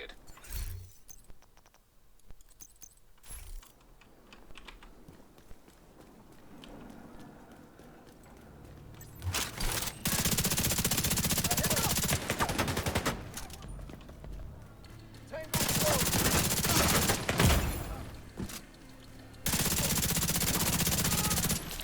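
Gunfire in the shooter game The Division 2, starting faint and sparse, then erupting into loud sustained bursts of rapid automatic fire in several long volleys, with brief lulls between them.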